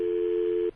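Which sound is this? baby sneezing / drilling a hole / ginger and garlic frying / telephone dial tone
telephone dial tone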